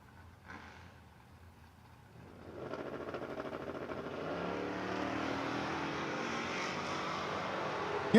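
A 1969 Camaro drag car at a Working Man's $10 Grands drag race launches and roars down the strip, its engine noise building from a quiet idle into a loud, sustained distant roar.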